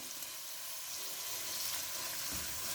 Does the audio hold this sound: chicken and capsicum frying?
yes